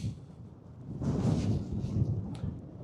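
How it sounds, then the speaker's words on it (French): Strong storm wind buffets a microphone while someone walks straight into it outdoors, a low roaring rumble that swells loudly after a quieter start, with no voices. "il y a du très fort vent, là je marche face au vent"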